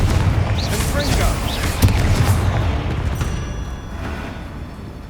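Spell explosions from Bombarda and Confringo curses in Hogwarts Legacy, played on PS5, crackle and boom through a thick wall of combat noise, with one sharper blast standing out before the din slowly eases.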